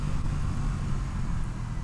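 An Aprilia Tuono 660 motorcycle engine drones steadily and loudly close by, a continuous low rumble with only slight shifts in pitch as it revs through a clutchless gear change, with no talking.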